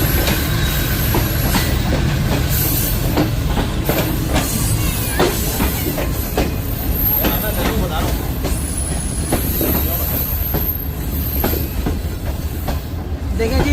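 Shalimar Express passenger train rolling on rails as it arrives at Nawabshah railway station in Pakistan, a loud steady rumble with rhythmic wheel clacks and brief squeals throughout, heard from on board.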